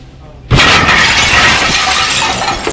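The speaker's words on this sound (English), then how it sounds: "Glass exploding, metal tearing through the air, people screaming." An SUV smashes into a restaurant, and a sudden loud explosion of shattering glass erupts after a short quiet lead-in, sustaining a harsh crashing roar with voices mixed in.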